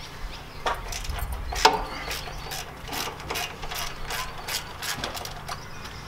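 Quick ratchet clicks loosening a 12 mm brake line fitting on a Hyundai Genesis during a coilover install, a run of close, fairly faint mechanical pawl clicks in short bursts with no talking.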